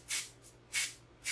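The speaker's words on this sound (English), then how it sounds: "I think I'll put a little spray on this piece right here." Hairspray misted onto a section of styled hair: three short aerosol bursts in quick succession, close and crisp, with no talking.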